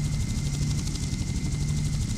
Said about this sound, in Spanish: Y en este helicóptero.